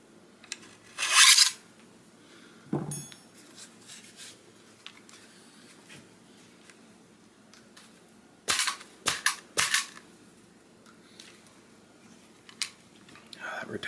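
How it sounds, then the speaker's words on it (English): Metal parts clicking and scraping as the handguard is worked off a Bulgarian AK-74 rifle, a few sharp snaps and rattles spaced across a quiet room with occasional rustling. "Here I am trying to take the handguard off and I still got other stuff attached."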